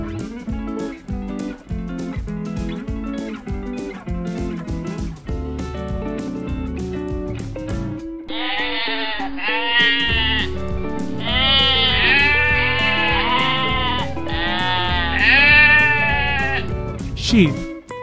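Sheep bleating on a farm, a run of loud wavering bleats layered over a bright musical backing, repeated several times in close succession.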